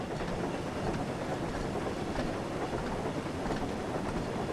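Thomas & Friends engines running in a train simulator game, a continuous dense rumble with faint rhythmic rail clatter rolling along evenly at moderate volume, no voices.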